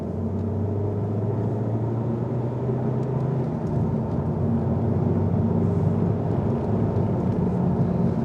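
A VW Golf GTD diesel engine accelerates in sport mode, heard as a steady, fairly quiet low rumble with road noise from inside the car, no talking.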